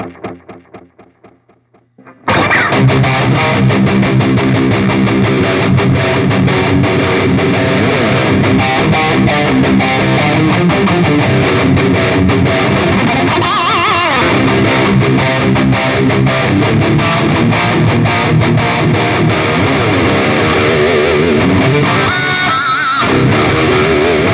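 An electric guitar played through the spring reverb of a Line 6 POD Express pedal rings out loud and sustained with a distorted, washy tone after a brief quieter picked intro.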